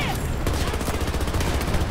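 Rapid automatic fire from a P90 submachine gun in the shooter game Battlefield 2042, a loud, continuous stream of closely spaced shots with dense game battle noise underneath and no pause throughout.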